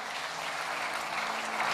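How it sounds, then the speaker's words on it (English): A church congregation claps together in sustained, dense applause that fills the room evenly, with no voices over it. "I don't know who you clapped for"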